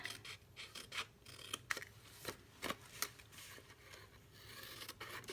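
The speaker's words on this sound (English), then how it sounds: "You're going to take your snips and you're just going to cut up those score lines on both sides." Snips cut along score lines in 6x6 craft paper, giving soft crisp snipping and rustling strokes in a quick irregular series, close and quiet, with no voices.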